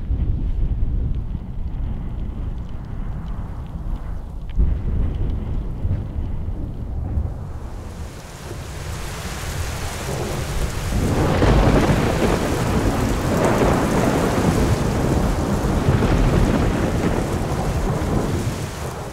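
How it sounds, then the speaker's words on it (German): A violent thunderstorm batters a small camping tent, with deep rolling thunder, gale-force wind gusts buffeting the fabric and steady rain drumming on it, growing louder midway. "An diesem Nachmittag überraschte uns ein gewaltiges Gewitter und verpasste uns einen Schock fürs Leben."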